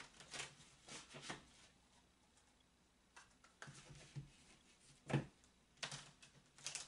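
Tarot cards being shuffled by hand, faint and close, in short irregular riffling bursts separated by quiet gaps, with no talking.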